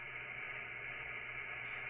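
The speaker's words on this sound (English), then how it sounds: "there, that's the radio noise." Steady hiss of ham radio static, even and unbroken, with a low hum beneath it and no voices.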